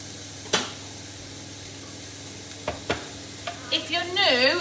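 Food fries in a pan with a steady low sizzle throughout, broken by a few sharp clicks and knocks, then a louder bubbling hiss near the end.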